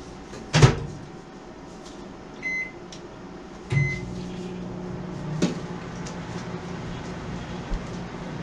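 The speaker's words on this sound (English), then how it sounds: "Now I'll put this in the nuclear microwave heater." A microwave oven in a cold late-night camp setting hums quietly and steadily as it heats food, punctuated by a few sharp clunks and beeps of its door and controls.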